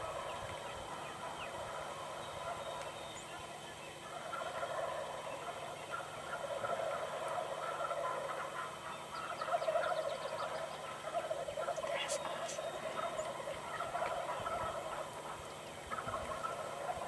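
Wild turkeys gobble repeatedly at a distance at first light in Wisconsin, overlapping calls rising from a steady outdoor background of other birds, with no talking.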